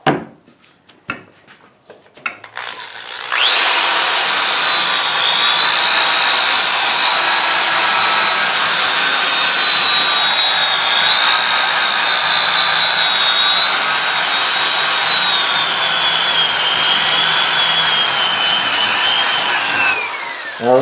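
Saburr rotary burr shaping an English walnut gunstock for an HW80 air rifle, a loud steady high whine with grinding rasp that starts after a few quiet seconds and runs on continuously, near and alone.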